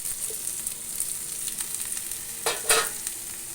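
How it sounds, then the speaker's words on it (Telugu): Potato pieces fry with onions and green chillies in a hot pan, a steady sizzle with brief louder stirring scrapes near the end, close and clear with no talking. "ఆనియన్స్ పచ్చిమిర్చి అయితే వేగినాయి ఇప్పుడైతే ఆలుగడ్డ వేస్తున్నా"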